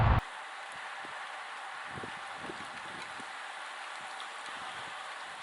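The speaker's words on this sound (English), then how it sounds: "It's raining a little bit harder now" Steady hiss of rain falling, close and continuous, on a narrowboat, with faint scattered patters and drips underneath and no voices.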